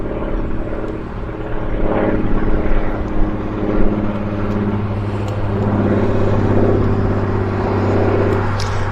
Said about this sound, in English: we've got a float plane take off from the river